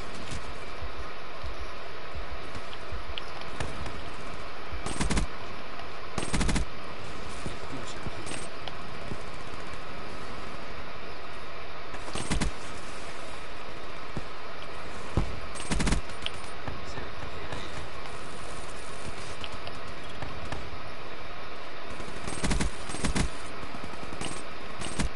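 Automatic M8 rifle fire in the video game Call of Duty Black Ops 3, coming in repeated short bursts over a steady game background while someone talks.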